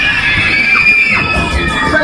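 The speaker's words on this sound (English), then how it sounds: "Somebody scream!" Crowd on a Dobsons Maxwell Waltzer fairground ride screams and shouts continuously, loud and close, with ride noise throughout.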